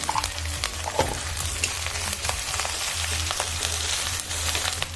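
Chili powder frying in oil in a pan makes a continuous, close crackling sizzle with scattered pops and stirring scrapes, moderately loud and steady with no voices over it.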